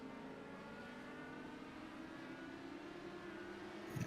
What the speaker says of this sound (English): So we can already hear some cars already heading out.